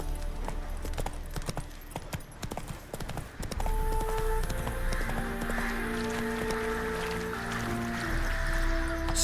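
Horse hooves in The Witcher 3: Wild Hunt clip-clop in a steady, quick rhythm close by, first alone and then under a layer of game music and ambience.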